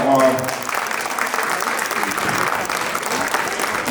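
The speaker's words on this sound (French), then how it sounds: "je vous demande un tonnerre d'applaudissements pour nos assesseurs" A crowd at a cat show in Gien, France, applauds the judging assessors steadily and enthusiastically, the clapping sustained throughout at an even, loud level.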